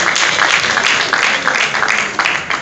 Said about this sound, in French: Que les artistes de Nzonzi applaudissent pour eux-mêmes.